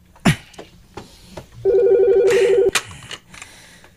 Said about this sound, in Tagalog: Oh, may nanawag na.